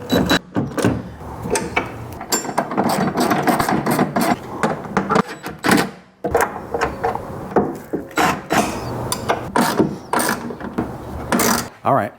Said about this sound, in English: I'm gonna tighten these bed bolts down.